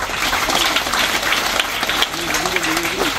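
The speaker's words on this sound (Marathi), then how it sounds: "टाळ्या वाजवा त्या भाऊसाठी" Children at a school field visit clap in a sustained burst of applause for a classmate who answered correctly, dense and close, with a voice speaking over it near the end.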